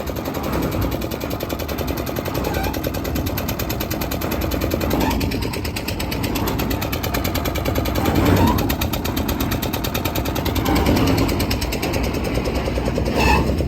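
A heavy engine pulling an old borewell pipe out of the ground chugs and knocks in a rapid, relentless rhythm, loud and close, with faint shouting voices mixed in beneath it.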